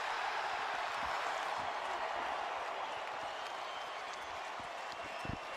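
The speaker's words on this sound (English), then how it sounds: "This entire crowd on its feet" Basketball arena crowd at a Lakers home game against the Raptors, standing and cheering with sustained applause, a dense continuous roar that stays loud throughout with scattered claps poking through.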